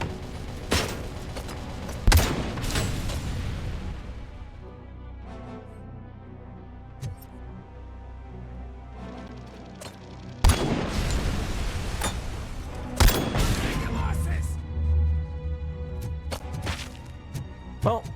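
Heavy Cobra Cannon blasts in RoboCop: Rogue City, loud booming shots spaced a few seconds apart with crashing impacts and rumbling aftermath between them.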